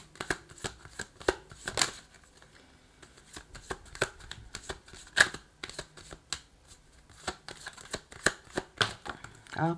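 Tarot cards shuffled by hand in quick irregular bursts of riffling and slapping, close and fairly quiet, with no talking.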